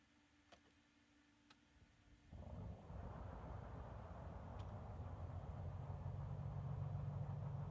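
A light aircraft engine in a VFR flight simulator cranks and catches, shifting from faint ticks to a steady, loud broadband engine roar that holds and slowly builds.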